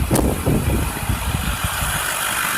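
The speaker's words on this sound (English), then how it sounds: "There she is, purring along beautifully." A 2009 Ford F-350 Harley-Davidson pickup truck engine idles with a steady low rumble and faint rhythmic chugging, close by and continuous.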